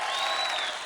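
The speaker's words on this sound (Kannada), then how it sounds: "ಜೋರಾಗಿ ಚಪ್ಪಾಳೆ" Brief burst of audience applause at a comedy stage show, dense clapping from a crowd lasting under a second, moderately loud.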